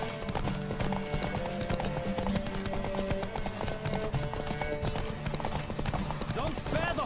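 Horse hooves clip-clopping at a gallop in The Witcher 3, a steady rapid beat under constant game music with a brief whinny, and a voice talking over it.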